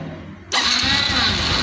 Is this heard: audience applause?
no